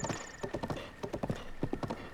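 Hooves clip-clop at a steady trot from a white horse in The Legend of Zelda: Breath of the Wild, crisp repeated footfalls with a faint whinny-like tone and game chime behind them.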